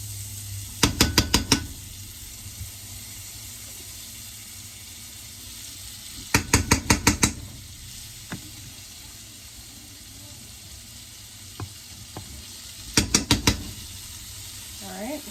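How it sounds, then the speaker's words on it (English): Butter sizzles softly in a pan as a wooden spoon stirs it, with three short bursts of rapid scraping clicks spaced apart and a low steady hiss between them. "So I'm going to do about 4 tablespoons of butter into the pan."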